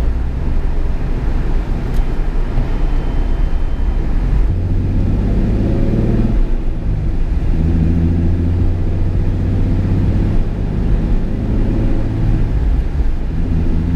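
Supercharged Nissan 350Z running 10 psi of boost, accelerating on wet ground with its tires spinning: a loud, steady low engine rumble that rises in pitch mid-pull, with wind buffeting the microphone throughout and no talk.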